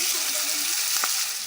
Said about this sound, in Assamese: ঢাকন নিদিয়াকৈ লৰাই ভাজি থাকিব